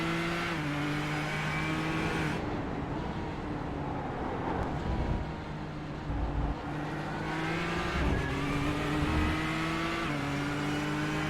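A GT race car in a sim racing game at Motegi, heard onboard as its engine holds a steady high drone through the middle sector, shifting pitch with gear changes and throttle lifts, with no talk.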